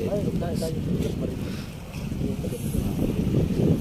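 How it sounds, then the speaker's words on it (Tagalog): Gusty wind in cold, rainy-season weather buffets the microphone with a low rumble throughout, while a voice speaks briefly over it. "Lamig, tag-ulan, lamig dito ay mahangin."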